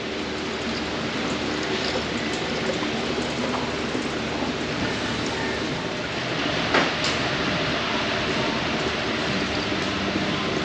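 Coolant being poured into the cooling system of a Chevy Equinox with a 3.6L engine during a water pump job, a steady, continuous splashing rush that holds evenly throughout.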